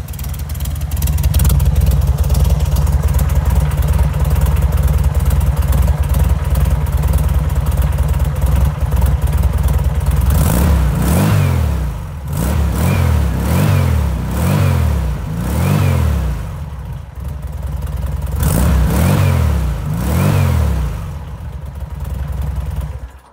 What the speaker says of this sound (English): Got a nice tone from the dual tip exhaust.